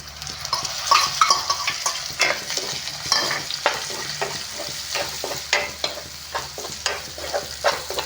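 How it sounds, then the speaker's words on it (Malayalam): Ginger stirred into tuna pickle masala in a hot pan: continuous close sizzling with rhythmic scraping and clinks of the spatula against the pan throughout, no voices. "എല്ലാം കൂടെ ഒന്ന് നല്ലപോലെ ഇളക്കാം"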